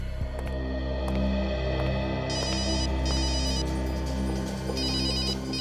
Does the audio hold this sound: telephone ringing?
yes